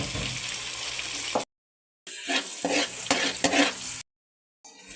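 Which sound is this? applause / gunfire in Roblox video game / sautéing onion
sautéing onion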